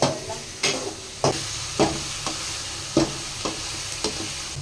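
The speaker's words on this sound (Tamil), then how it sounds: "இப்போ நம்ம வெங்காயம் வதக்கிறதுக்கு உப்பு போட்டுக்கலாம். இப்போ போட்டு வதக்கிக்கலாம்." Onions being sautéed with salt in a pan for an egg masala gravy, with a steady frying sizzle broken by regular stirring scrapes roughly every half second to second, close and moderately loud with no talking.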